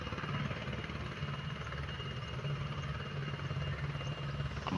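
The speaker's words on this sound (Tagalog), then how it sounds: "videohan natin tong paglipad ng eroplano" A steady, loud engine roar from an airplane preparing for takeoff, heard from a distance as a continuous rumbling drone with a throbbing low pulse and no voices.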